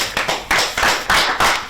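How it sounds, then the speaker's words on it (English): An audience at a televised quiz competition applauds in loud, close bursts of clapping that swell and ebb in quick waves. "A round of applause, please."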